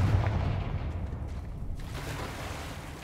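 Confringo fire spell from Hogwarts Legacy erupting in a deep rumbling blast that stays loud and dense across the whole moment, with no voices over it.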